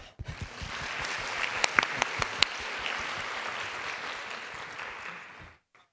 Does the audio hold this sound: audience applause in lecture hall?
yes